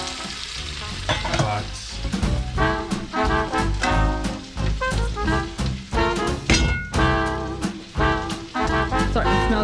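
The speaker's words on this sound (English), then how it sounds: "You want to sear the sausage off, it gives it more flavor again." Andouille sausage searing in a pan for gumbo, a loud, dense, continuous crackling sizzle like rain with pops and stirring, close up, with a brief spoken word over it.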